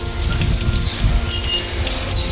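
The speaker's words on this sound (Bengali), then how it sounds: "জোর বৃষ্টি নেমেছে" Steady heavy rain pours down outdoors near Kargil Beach in Bakkhali, a dense continuous hiss of drops with no break and no voices.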